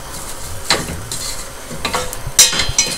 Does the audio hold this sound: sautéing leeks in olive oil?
yes